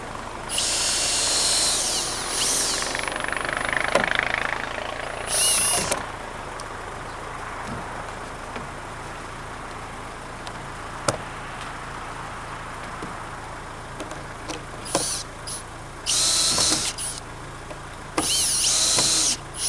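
A power drill drives long screws into the wooden roof beams of a post-and-beam garage, in several loud whirring bursts of a second or two separated by quieter stretches of faint site noise.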